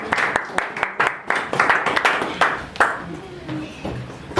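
A church congregation applauds during a worship service, a loose burst of scattered claps rising and fading over a few seconds, with speaking heard alongside it.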